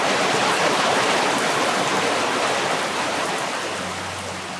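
Rain pours steadily outside a barn on a pig farm, a dense even hiss that stays loud and close and eases slightly toward the end, with no talking.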